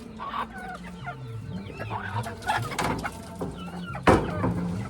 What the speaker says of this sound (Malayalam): നമ്മുടെ ഒരു പൂവൻ ശകലം അഗ്രസീവ് ആണോ, അവനായിട്ട് കുത്തുവാണ് വേറെ ഒരു മെയിലിന്.